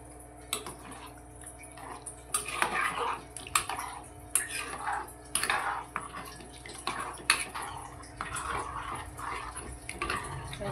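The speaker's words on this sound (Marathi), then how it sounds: "थोडंसं पाणी टाकूया" Water is poured into a cooking peanut mixture, giving soft splashing and clinking of a pot and utensil at moderate distance, without talk.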